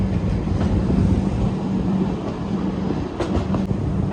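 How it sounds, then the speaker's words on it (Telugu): A Bhopal metro train rumbles past with a loud, continuous roar and a few clacking accents near the end. "మెట్రో అనుకుంటా మరి"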